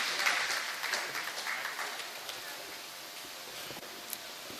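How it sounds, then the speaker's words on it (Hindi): Loud applause from a crowded audience at a Hindi-Urdu kavi sammelan and mushaira poetry recital in Nawabganj, Bareilly: dense clapping that starts strong and slowly thins and fades over a few seconds. "जोरदार तालियों के साथ डॉक्टर केपी सिंह जी।"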